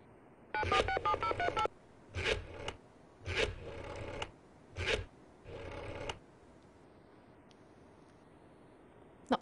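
Telephone keypad tones during a TV quiz show, several bursts of rapid dialing beeps separated by short pauses, loud and close, followed by near silence.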